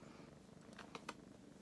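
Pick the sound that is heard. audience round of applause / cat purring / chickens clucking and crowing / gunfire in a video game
cat purring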